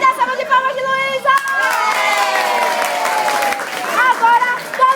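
Clapping and excited shouting from a crowd of guests at a child's birthday party, with voices and children's cries mixed over the applause, loud and continuous.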